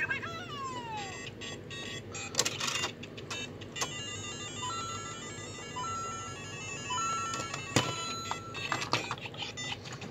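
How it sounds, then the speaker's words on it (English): A Lego Super Mario figure plays its electronic starting-pipe sound effect, a quick falling tone followed by a string of beeps, chimes and sustained synthetic notes, fairly quiet and close with no talking. "Now I will kind of do this with the Mario starting pipe noise."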